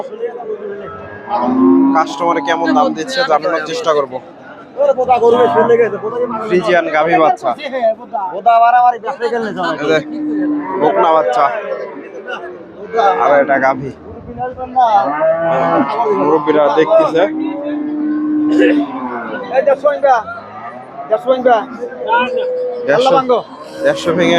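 Crossbred dairy cows low at a crowded cattle market at Chandaikona, Bangladesh, their calls rising now and then through almost constant nearby talk and the babble of traders.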